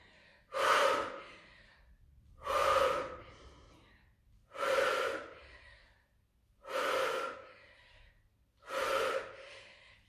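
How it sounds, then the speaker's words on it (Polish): Heavy workout breathing, five loud rhythmic gasping exhales spaced about two seconds apart, close and alone with quiet pauses between. "Kontrolujemy nasz oddech."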